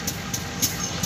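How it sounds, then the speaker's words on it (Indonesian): CC 201 diesel locomotive starting to pull forward at Perbaungan station in Indonesia, a loud steady engine rumble with faint rhythmic clicks, no talking. "Nah, ini lokomotifnya mau maju nih."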